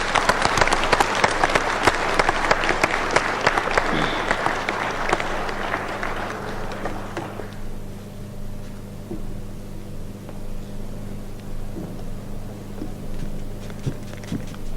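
Dense, loud applause from an audience at an inauguration ceremony, sustained for several seconds before thinning out and fading to a low murmur of room noise and scattered claps.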